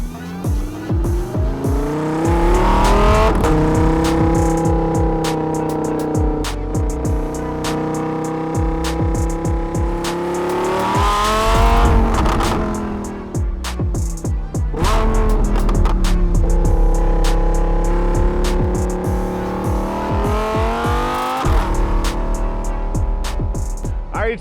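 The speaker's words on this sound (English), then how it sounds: "let's hop in, crank it up, and let's go out and hear what this sounds like" A 2021 Lamborghini Huracan EVO RWD Spyder engine and exhaust roars loudly while driving, rising and falling through repeated revving pulls and gear changes with crackling exhaust pops, steady and close throughout.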